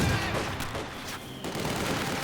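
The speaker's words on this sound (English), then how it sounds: "More Maxim fire, Grenadiers running into a bit of problem." Maxim machine gun fire from a Company of Heroes 2 battle, sounding as dense overlapping bursts of gunfire with scattered shots throughout, steady and moderately loud with no talk over it.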